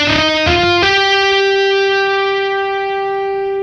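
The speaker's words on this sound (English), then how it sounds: "So all my guitars are built off of a piano with just a simple amp modeling." Piano notes run through Amp Hub amp modeling with fuzzy distortion, a few sustained, buzzing tones stepping up in pitch then ringing out steadily, loud and upfront with no voices.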